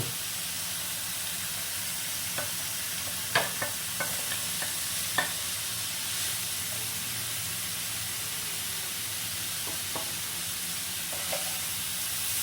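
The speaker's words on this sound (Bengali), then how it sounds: "এই পনিরগুলো দিয়ে আরও একটু ভালো করে কষিয়ে নেব এবং মিনিট 4 এটা রান্না হবে।" Fried paneer is stirred and sautéed in a green masala, a quiet bed of sizzling broken by a cluster of sharp spoon scrapes and clatters, then a few more stirs later, with no voices.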